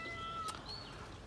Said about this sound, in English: You can probably hear Millie in the background. Millie the cat